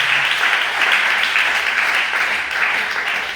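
Steady applause from a church congregation acclaiming the Lord, a dense, continuous wash of clapping that holds at an even loudness without pause for the whole stretch.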